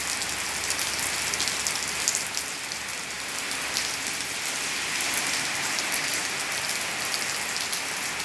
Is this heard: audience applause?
no